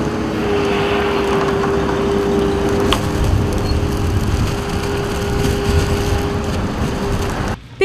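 Engine noise on a snowy road where a truck is being pulled out, a loud steady motor rumble with a sustained whine, a sharp knock partway through and a sudden cut near the end.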